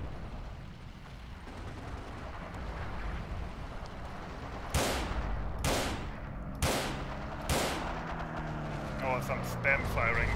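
Gunfire in the WWII shooter Forgotten Hope 2: four sharp, loud shots in quick succession midway, followed by a few fainter cracks, over steady battlefield rumble and a speaking voice.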